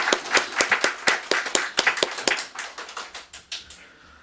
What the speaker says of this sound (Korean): 한 번 더 우리 뜨겁게 우리 간증 감사하다고 박수 한번 부탁드릴게요